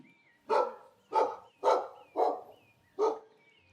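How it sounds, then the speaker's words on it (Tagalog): A dog barks five times in a steady, evenly spaced rhythm, each bark loud and close with quiet gaps between. "Iyon ay kahol ng aso."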